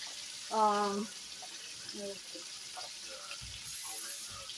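Water is poured to make salt water for dipping chicken in a home kitchen. A faint, steady hiss of running water sits under brief bits of nearby talk.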